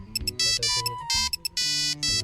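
A mobile phone ringtone plays loudly and up close, a bright repeating electronic melody of short bursts and sustained tones, heard alone without voices.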